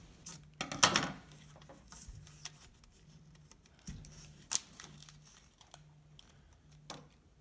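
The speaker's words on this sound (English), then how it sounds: "We're going to cut the cardboard sleeve off." Scissors snip through a cardboard sleeve on a metal window shade roller. The close, crisp cuts come in a few uneven bursts, with faint rustling between them and no talking.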